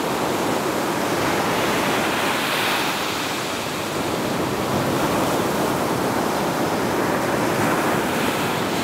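Ocean waves at a beach in Phuket, a loud continuous wash of surf and breaking water with wind noise on the microphone, steady throughout with no voices.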